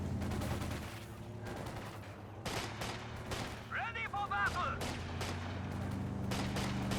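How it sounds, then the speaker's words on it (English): Gunfire in a Company of Heroes 2 battle with Sturm Pioneers: sharp bursts of shots and rattling fire scattered across the scene, mixed with battle noise and a low rumble, moderately loud throughout. "I hear some gunfire"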